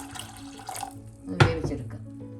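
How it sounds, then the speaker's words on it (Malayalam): Water poured into a bowl of lentils for cooking gives a short splashing gush midway through, close and fairly loud, set against quieter background noise. "അതിലേക്ക് പരിപ്പ് വേവാൻ ആവശ്യമുള്ള വെള്ളം കൂടെ ഒഴിച്ച്"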